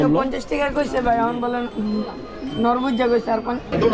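Pigeons coo softly in the background while people talk nearby at a busy, crowded pigeon market in Bangladesh.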